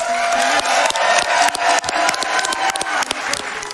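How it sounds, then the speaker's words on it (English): A crowd applauds and cheers the winner of a Super Mario Bros. 3 speedrun race at the AGDQ 2020 charity event, a steady dense wash of clapping with whoops rising through it, loud and close throughout. "He's realized we're cheering for him."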